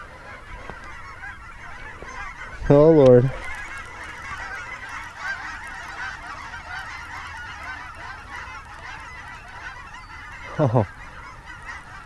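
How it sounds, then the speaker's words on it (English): A flock of geese flies low over a pond, honking in two loud bursts, a dense cluster of calls early on and a shorter one near the end, with a man exclaiming briefly in between. "Whoa. That's a lot of geese. It's about to get really loud."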